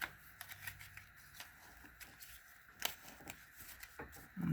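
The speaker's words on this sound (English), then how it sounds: "Got cards falling here." Tarot cards slip and spill, then get shuffled, giving a run of soft papery flicks and riffles with a few sharper slaps, close and fairly quiet.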